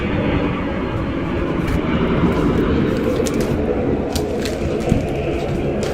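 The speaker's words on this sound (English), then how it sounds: "Those are jets in the sky over Tel Aviv." Fighter jets flying over Tel Aviv make a continuous broad roar that rumbles steadily overhead, with a few faint sharp clicks and knocks scattered through it.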